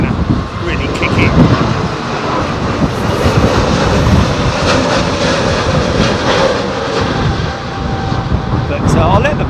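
A jet airliner climbs out quickly into a strong headwind on a windy day at London Heathrow, its broad engine roar steady and fairly loud against gusting wind, with voices talking over it.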